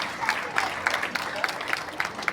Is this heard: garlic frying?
no